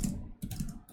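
Rapid typing on a computer keyboard during a coding session, a dense run of close, soft key clicks with a brief pause near the middle.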